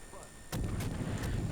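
Heavy naval gunfire in the World of Warships game, with a loud booming salvo that comes in and then keeps rumbling, and further sharp gun reports layered over it.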